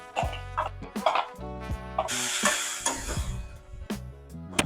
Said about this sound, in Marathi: हा बारीक चिरलेला कांदा आणि टोमॅटो आता टाकून याच्यामध्ये फ्राय करून आहे